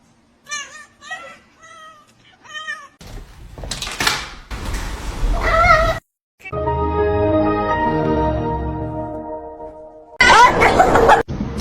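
A cat meows in a few short, close calls at the start, followed by rustling, a sustained tonal sound and bursts of noise.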